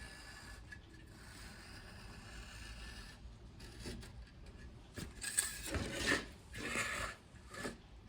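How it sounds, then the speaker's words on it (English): An X-Acto knife trims excess screen material around a spline-held frame edge on a 1984 Chris-Craft Catalina 381 boat, making quiet scratchy slicing and rasping strokes that grow louder toward the end, close up and without talk. "now we take our X-Acto and we'll just run around the edge here, cut off our excess"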